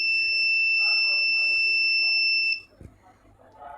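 An electronic buzzer wired into a simple IR sensor circuit with a power supply gives a steady, piercing continuous tone for about two and a half seconds, then cuts off abruptly while someone talks.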